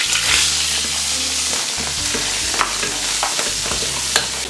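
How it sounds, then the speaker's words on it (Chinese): Chicken fat fries in a pan in a home kitchen, a continuous loud sizzle with occasional stirring clatter and a low steady hum beneath, no talk. "把这个鸡油放在里面煎一下"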